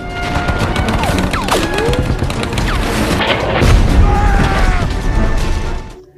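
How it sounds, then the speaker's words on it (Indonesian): Loud war-movie battle sounds: rapid bursts of gunfire and booming explosions overlap densely for several seconds, with whistling projectiles and a heavy blast before the din cuts off abruptly. "Tapi tiba-tiba Red terkena ledakan yang membuatnya terluka parah."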